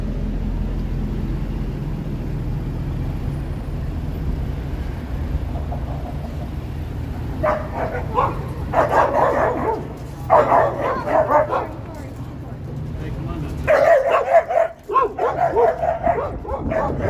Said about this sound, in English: just two random dogs wanted to kill each other